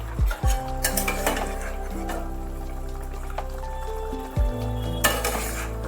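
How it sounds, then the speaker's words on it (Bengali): Ground spice paste is stirred into a pan of frying pointed gourd (patol) over a low simmering gas flame, with a soft sizzle and a few close metal clinks and scrapes of the spoon against the pan. "এবার আমি বেটে রাখা মশলাটা দিয়ে দিচ্ছি।"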